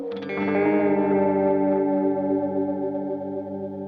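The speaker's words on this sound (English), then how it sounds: "we should hear some weird pitch stuff when it gets hit a little harder" An electric guitar chord through a pitch-shifting effects pedal rings out and sustains with a shimmering, warbling pitch-shifted tone that slowly decays, with no other sounds.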